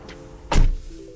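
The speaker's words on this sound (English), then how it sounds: "Open and close your door." A single close car door thunk lands sharply in the middle of a quiet interior, followed by a faint hum.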